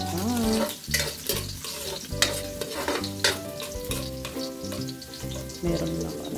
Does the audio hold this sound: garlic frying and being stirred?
yes